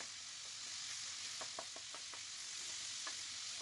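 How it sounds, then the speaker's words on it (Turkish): Beef sautéing in hot oil on a sac pan for sac kavurma gives a steady, close sizzle throughout, with a few light scraping and stirring knocks. "Şu an görüyorsunuz kavuruyorum."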